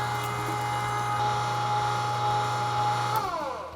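A meat grinder grinds meat for Texas hot links on a first pass, a steady loud motor whine with a constant tone running continuously before tapering off near the end.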